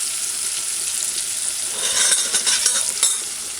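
Ackee and saltfish ingredients sautéing in a pan with sweet pepper, a steady soft sizzle that brightens and grows louder partway through, with a few sharper crackles near the end and no voices.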